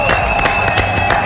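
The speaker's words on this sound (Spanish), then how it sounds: "un aplauso para él." A television studio audience breaks into brief applause for an arriving guest, a close, dense burst of clapping with some crowd noise, lasting only a moment.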